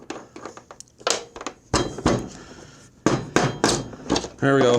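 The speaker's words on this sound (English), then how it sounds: "put the nut on it, put the socket on it, hit the socket, and out it goes." A hammer strikes a socket to drive the deck shaft out of a John Deere D120 mower, several loud sharp metallic blows spaced irregularly, close up, with brief speech and clinking parts between hits.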